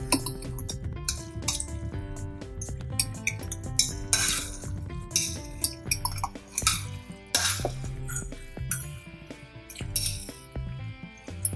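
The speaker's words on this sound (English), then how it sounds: "I'm just going to use a fork. I find a fork is a lot easier" A fork mixing food in a dish, with rapid clinking and scraping of metal against the bowl in uneven bursts, close and clear, with no one speaking.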